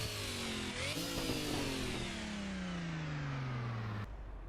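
A car's engine and exhaust in Assetto Corsa Evo roar loudly, revving up and then sweeping down in pitch through a long deceleration before cutting off abruptly.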